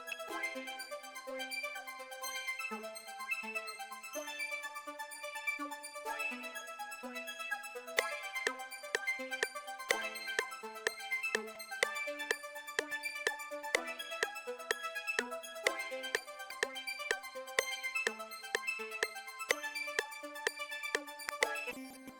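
A bright synth arpeggio built in the Vital synthesizer steps through repeating notes in a steady rhythm, joined partway through by a denser, punchier layer of plucked tones, loud and upfront with no voices.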